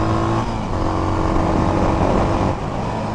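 An SWM Outlaw 500 motorcycle ridden along a small winding road, its engine droning steadily and loudly at close range, with the wind rushing past and a slight dip in revs near the end.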